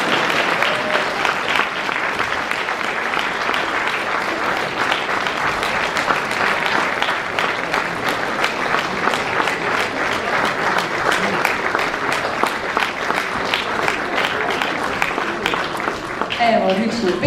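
An audience at a charity concert claps steadily for the whole stretch, a dense, even wash of applause that never fades.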